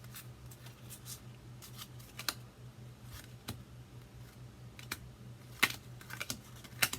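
A pack of small cards, about four inches tall, flipped through by hand, giving quiet, irregular snaps and riffles, some of them sharper, over a low steady hum in a quiet room.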